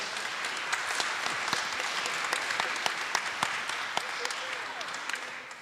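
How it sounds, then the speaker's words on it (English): A church congregation applauds at a 20th building anniversary celebration, scattered individual claps over a soft room murmur with voices talking quietly underneath, moderately distant and sparse. "okay to applaud."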